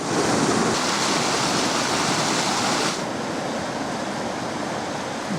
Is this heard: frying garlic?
no